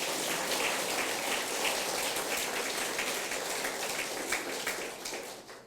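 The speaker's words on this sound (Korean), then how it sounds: "박수를 쳐드려야 마땅하다" Audience applause at a peace movement gathering, a dense, even wash of many hands clapping, sustained and fairly distant, fading slightly at the end.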